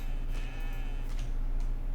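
Goat bleating in the survival video game The Infected, a close, wavering cry that rises and falls over steady ambient game noise.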